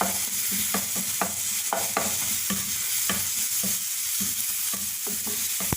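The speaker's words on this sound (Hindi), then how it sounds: "लहसुन अदरक का पेस्ट तकरीबन आधा चाय का चम्मच। मिक्स कर देंगे।" A spoon stirs garlic ginger paste into an Afghani omelette mixture, tapping and scraping in a quick steady rhythm against the bowl, close and clear over a faint background hiss.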